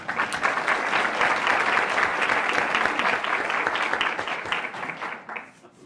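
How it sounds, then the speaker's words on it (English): Audience at a school board meeting and public hearing gives a sustained round of applause, dense clapping at a steady level for several seconds before thinning out and fading at the end. "we'll give her a huge round of applause"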